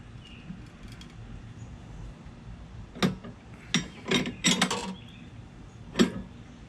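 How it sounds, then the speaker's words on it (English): A socket wrench ratchets on a shaft with 15/16-inch slots, giving a few separate bursts of clicking with pauses between them. The bursts are fairly close and moderately loud over a quiet background. "I got tired of wrenches and I went and grabbed my socket wrench."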